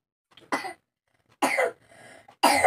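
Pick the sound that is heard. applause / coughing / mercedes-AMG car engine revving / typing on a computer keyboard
coughing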